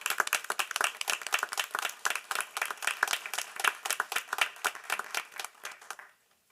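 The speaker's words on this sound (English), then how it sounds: "Can we give all of them a round of applause?" Audience at a board meeting claps in steady, fairly sparse individual hand claps for several seconds, moderately close, tapering off and stopping near the end.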